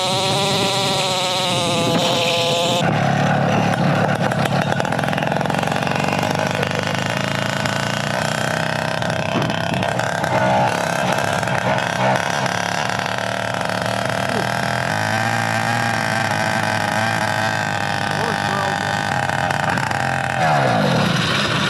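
Minarelli 70cc two-stroke motor-bicycle ridden, its engine buzzing loud and close with rising and falling revs and a rough, raspy tone throughout, a sharp jump in intensity after the opening seconds and voices briefly mixed in.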